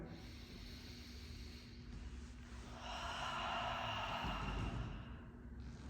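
A long, drawn-out exhale during a yoga pose, a soft, breathy rush that swells midway and fades out over a few seconds against quiet room tone.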